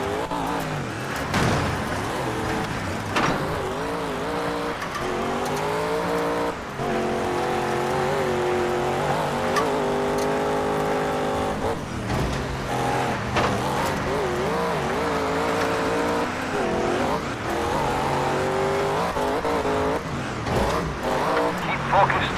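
Race cars in the video game TOCA Race Driver 3, engines droning and shifting pitch continuously through a close race for first place, with brief tire squeals and a speaking voice over the racing.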